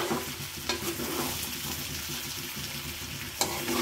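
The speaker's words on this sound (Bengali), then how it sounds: "আমি এই যে ছোলাটা রান্না করতেছি।" Chickpea curry cooks in a pan with a steady sizzling hiss and scraping stirs, plus a low hum underneath and a couple of sharper clinks near the start and end.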